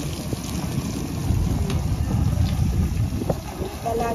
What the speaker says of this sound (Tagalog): malakas po ang hangin. Hangin po yung naririnig nyo.